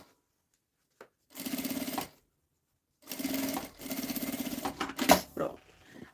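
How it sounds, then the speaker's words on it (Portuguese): A sewing machine stitches fabric lining for a fabric vanity case in two bursts of steady, fast mechanical whirring, separated by short pauses while the cloth is adjusted, followed by a few clicks and handling noises. "Vou costurando um pouquinho, paro, ajeito aqui o tecido do forro"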